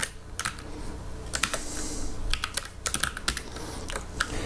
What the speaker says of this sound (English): I'm going to enter my password.